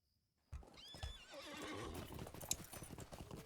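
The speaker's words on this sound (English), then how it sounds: "Let's use a horse." Horse hooves clip-clop in a video game, with a loud whinny. They start abruptly after a half-second of silence and continue as a busy, steady trot with overlapping game sounds.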